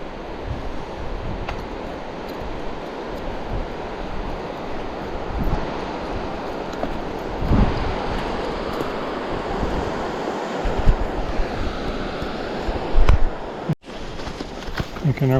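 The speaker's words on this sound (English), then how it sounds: "See, it's windy out." Wind roars steadily across a mountain trail during a steep descent on Erg Mountain in northern British Columbia in July, a loud, broad rush with gusty buffeting against the microphone.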